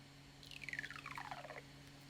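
A kick drum sample mapped across a keyboard and played as a fast downward glissando, a quick run of bright pitched hits sliding steadily lower over about a second, alone over a faint low hum.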